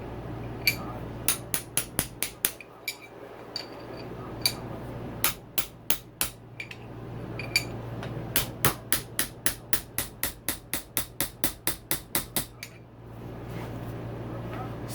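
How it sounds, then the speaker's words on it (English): Rapid metallic ratcheting clicks come in several runs as a wrench tightens a dirt bike steering stem top nut during a bearing replacement, close and crisp over a steady low hum. "Alright, try tightening the top back down."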